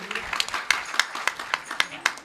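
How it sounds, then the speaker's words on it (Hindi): Crowd clapping for a teacher at a public ragini singing gathering, a series of sharp, fairly faint claps in an uneven rhythm, with a voice audible underneath. "एक बार जोरदार तालियां गुरुजी के लिए"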